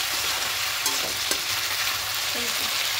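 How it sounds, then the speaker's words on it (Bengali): Chicken pieces fry in a kadai over a gas flame while being stirred, a steady close sizzle broken by a few sharp scrapes and clinks of the spoon. "চিকেনটাকে দেখুন 3-4 মিনিট একটু ভেজে নিয়েছি, চিকেনগুলো ভাজা হয়ে এসছে।"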